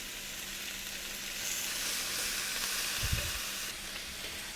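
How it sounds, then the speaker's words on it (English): Beef steak strips and softened vegetables sizzle hard in a hot skillet for a beef chow mein, a dense continuous hiss with a brief low thump of stirring partway through. "Now it's time to add the steak back into the skillet."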